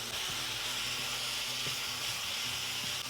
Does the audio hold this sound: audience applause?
no